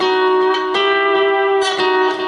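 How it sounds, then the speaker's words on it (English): Lap steel guitar sliding up into a D with a whole-step then half-step walk-up, sustained bright tones gliding in pitch with a few plucked attacks, played alone and up close. "Now, whenever I'm sliding into a D on a pretty song, I do a whole step, and a half step."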